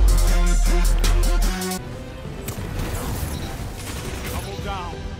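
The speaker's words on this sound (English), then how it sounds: "we get a nice little shotgun kill there" A shotgun kill in Destiny 2 PvP, with a loud booming blast and crashing impact up front, then a busier spray of game effects and mechanisms continuing at a lower level.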